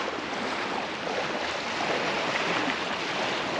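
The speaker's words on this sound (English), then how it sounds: "listen to those waves and to the birds." Ocean waves on a sunny, warm day just after rain, a steady, moderately loud wash of surf filling the whole stretch, with birds hard to pick out beneath it.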